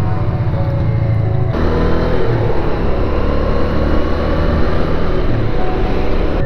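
A 1983–84 Honda Ascot VT500 motorcycle engine runs steadily in a garage, a loud continuous rumbling drone with a slight shift in tone early on, alone without talk.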